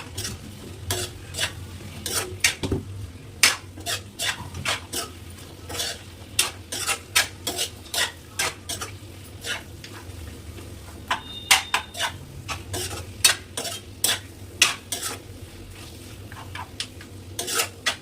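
A spoon scrapes and clinks around a pot as mutton and small prawn curry is mixed, a steady run of metallic stirring strokes over a soft sizzle, close and unaccompanied by talk.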